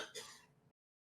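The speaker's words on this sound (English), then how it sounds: "you're hearing my roommate cough in the background" A single short throat-clearing cough from a roommate in the background, brief and faint, cutting off abruptly into silence.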